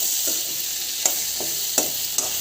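Potatoes with cumin sizzle steadily in a pan, punctuated by about four distinct scraping strokes of a spoon at a loose, even pace, close by and with no talking.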